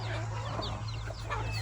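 A flock of large farm chickens keeps up a dense, continuous clucking and chattering close by over a low steady hum.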